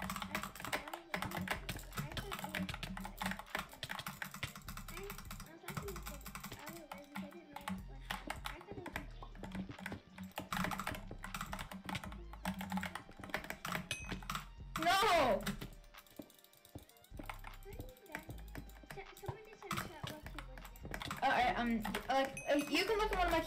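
Fast computer keyboard typing clatters in dense bursts with brief pauses, close and fairly loud, while people talk over it.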